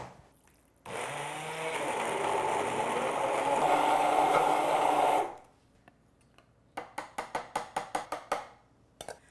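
A blender purees dates, whirring loudly for several seconds, then stops; a series of short, sharp pulses follows in quick succession.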